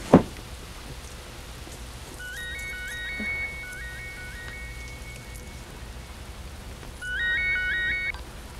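Steady rain patter with a soft hiss throughout, a sharp knock at the start, and bursts of electronic ringtone-like chirps in the middle and near the end.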